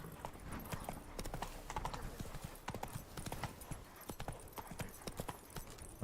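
In the Witcher 3 video game, the horse Roach gallops with a steady, rapid clip-clop of hooves. A brief whinny sounds over continuous background ambience, with no voices.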